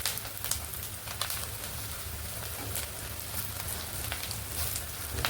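Mustard seeds, a green chili and onion pieces fry in hot oil for an Andhra masala vada curry, giving a steady, dense sizzle with scattered small pops and no voices.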